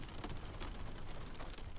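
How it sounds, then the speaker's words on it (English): Steady rain falls heavily and continuously near a lighthouse at night, a dense even hiss with no gaps. "The rain arranges itself into many small patterns."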